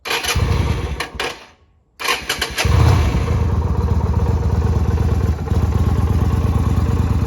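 A Yamaha V Star 250 motorcycle cold-started after sitting over a day: a few loud cranking bursts, a brief silence, then the engine catches and settles into a steady, close, even idle.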